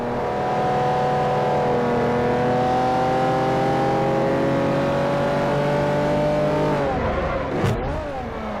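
Car engines racing in the video game Forza 4, a loud sustained engine whine climbing through gears for several seconds, then a sharp shift and a brief impact near the end.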